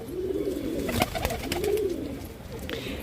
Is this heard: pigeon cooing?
yes